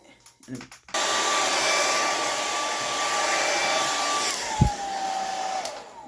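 A hair dryer switches on after a few brief handling noises and runs steadily with a loud, continuous whooshing roar, its pitch shifting slightly near the end.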